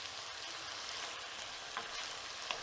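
Vegetables for Korean bulgogi sizzle steadily in a hot pan, a continuous even crackle with a couple of slightly sharper pops, close by and with no voices over it.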